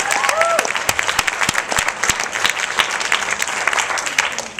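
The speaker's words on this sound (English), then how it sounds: "let's give them a giant round of applause" A comedy show audience breaks into sustained applause, thick steady clapping from a full crowd with a few scattered whoops, holding at full strength throughout.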